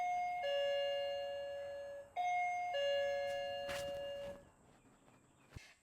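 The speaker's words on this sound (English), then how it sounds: "we'll also change the doorbell" A household doorbell chimes in a home in Australia, ringing two bright tonal ding-dong sequences with a short pause between, followed by a clatter and a brief knock.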